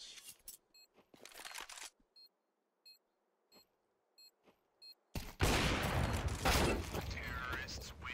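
Gunfire in a competitive esports video game match rings out as a sequence of separate sharp shots with beeping tones between them, then a loud commentator voice takes over.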